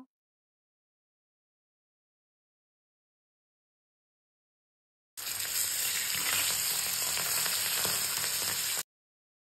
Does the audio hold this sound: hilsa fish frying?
yes